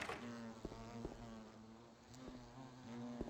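Insects buzz steadily in the video game Silent Hill 2 Enhanced Edition, a continuous droning hum with faint clicks over a dark ambient background.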